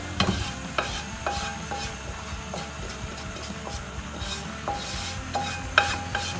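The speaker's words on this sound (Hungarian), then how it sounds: "Most keverem be a főzelékbe a rántást." A spoon scrapes and stirs roux into a thick green bean stew in a pot, with soft sizzling and intermittent clinks against the pan, close by.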